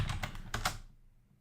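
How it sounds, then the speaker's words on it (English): Quick clattering keystrokes on a computer keyboard while entering a name into a C program prompt, a short burst of close taps that stops abruptly, followed by quiet. "So I'm typing my name"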